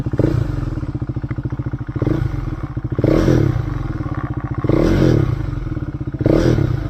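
A KTM Duke 390 single-cylinder motorcycle engine idles close by with a fast steady thumping pulse and mechanical clatter, swelling in a few short revs every second or so before settling back, no voices.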